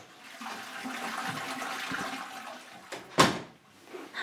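A household toilet flushes with a steady rush of running water, then a short, loud gush or clunk near the end, fairly close and with no voices.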